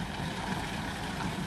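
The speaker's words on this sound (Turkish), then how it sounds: "İskilip Belediyesi'nin şelalesi de bu kadarcık." A small municipal waterfall in İskilip gives a steady, even rush of falling water, close and constant with no talk over it.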